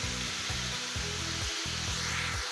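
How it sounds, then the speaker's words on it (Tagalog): Meat sautéing in a pan for igado, a steady loud sizzle with a low rhythmic mechanical hum pulsing underneath, no talking. "Gigisa lang natin. Sabay na natin sa karne mga idol."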